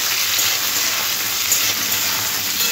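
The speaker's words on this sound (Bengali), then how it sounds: "এবার আলুর মধ্যে একটু ছোলাটাও হালকা করে একটু ভেজে নেবো নেড়ে চেড়ে" Potatoes and chickpeas fry in oil in a pan while being stirred, a loud, constant hiss of sizzling with no talk.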